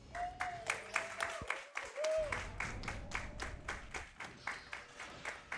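Crowd applause and cheering from an event audience during a Ratchet: Deadlocked co-op speedrun, a steady wash of claps with voices and tonal game sounds over it, fairly close and moderately loud throughout.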